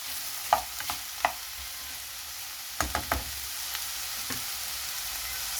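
Garlic sizzles steadily in a pan while a utensil stirs it, giving a few sharp scraping knocks against the pan over a constant soft frying hiss.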